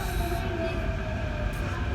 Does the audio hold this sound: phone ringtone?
no